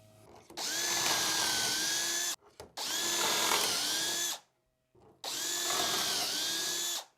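A drill bores dowel holes in a wooden board set in a cheap dowelling jig, with three sustained whirring bursts separated by short pauses, close and loud.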